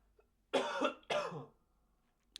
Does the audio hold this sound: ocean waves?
no